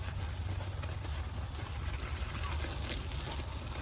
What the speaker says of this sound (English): This water hose is loud.